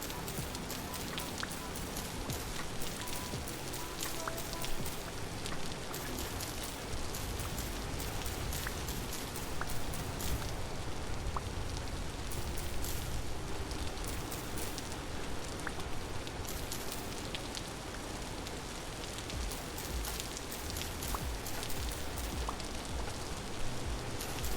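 Steady rain falls in the video game Vintage Story, a continuous dense hiss with scattered patter of drops, even and unbroken throughout, with no voices over it.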